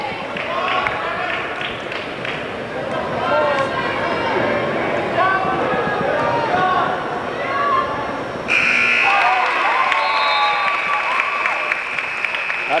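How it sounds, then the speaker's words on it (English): Crowd in a high school boys' basketball gym at a Class C sectional semifinal cheers loudly as the final buzzer sounds, a sustained electronic tone cutting in late over the roar; an announcer talks over the noise throughout. "At the buzzer, Greeny's shot will count"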